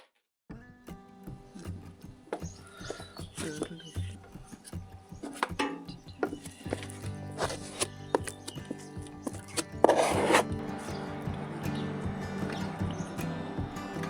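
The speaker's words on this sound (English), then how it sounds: "Load it on thick, scrape it off." Thick filler compound being scraped off a catamaran hull surface, a run of rough, irregular rasping strokes that grow denser and louder toward the end, close and without talk.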